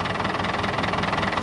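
A boat engine on soft rubber mounts idles steadily, a continuous close rumble with rhythmic vibration and a faint knocking pulse running throughout, with no voices.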